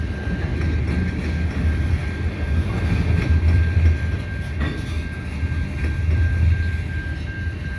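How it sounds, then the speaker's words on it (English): A CN freight train rolls past a St Ambroise Street crossing on a rainy day, a continuous heavy rumble with steady clattering of wheels over the rails. The sound stays close and sustained throughout. "that's the end of the train"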